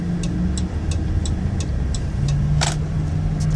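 Steady, loud cabin hum of engine and road noise from a 2019 Dodge Grand Caravan SXT wheelchair mobility minivan with 15,000 miles, with a regular light ticking over it.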